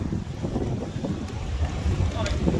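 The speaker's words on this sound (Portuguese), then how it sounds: "vai estar dando uma rajadazinha de vento agora" Wind gusts buffet an outdoor microphone with a steady low rumble and rushing roar throughout, loud and close.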